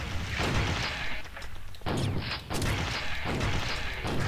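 Heavy repeated gunfire and blasts from the top-down shooter game Alien Shooter 2, loud bursts arriving in rapid clusters roughly every second with booming tails between them.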